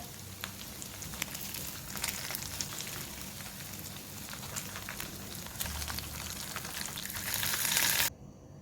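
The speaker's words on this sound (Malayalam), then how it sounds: "എല്ലാ പീസസും ചിക്കൻ രണ്ട് സൈഡും ഫ്രൈ ആയി വന്നിട്ടുണ്ട്" Chicken pieces frying in hot oil for a homestyle Kerala chicken fry, a dense, steady crackling sizzle close by with popping spatters that swells slightly before cutting off abruptly.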